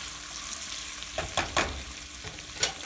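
Butter being stirred into penne pasta in a pan with vegetables, giving a soft steady sizzle under a few clicking scrapes of the spoon against the pan, close and fairly quiet, with no talking.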